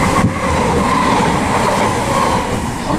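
A Southern class 313 train runs on rails between Fratton and Littlehampton, a loud, steady interior rumble with faint rhythmic clatter from the wheels, heard from on board without speech.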